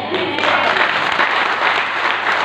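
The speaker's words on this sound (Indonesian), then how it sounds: "Tepuk tangan." A congregation at a Christian sermon breaks into steady applause, a dense wash of clapping from many hands held throughout.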